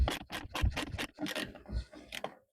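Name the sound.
DieHard 3/8 ratchet working back and forth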